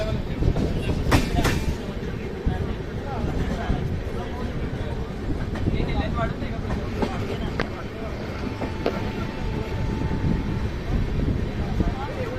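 Indian Railways train 12219, the LTT–Secunderabad Duronto, rolls along the rails near Dudhni station in a steady rumbling clatter with occasional sharper clicks, heard from inside the train, while a voice talks over it.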